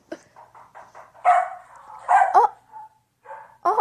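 A small dog gives a string of short, sharp barks and yips close by, spaced irregularly with short gaps between them, and no voices are heard.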